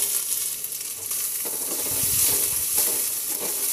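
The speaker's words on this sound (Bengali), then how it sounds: "ঠিক একইভাবে রসুন এবং আদা বাটা একটু বেশ ভালো করে ভেজে নিতে হবে।" Garlic and ginger paste sizzles steadily in hot oil in a pan while cooking dahi mutton curry, with occasional stirring scrapes and no talking.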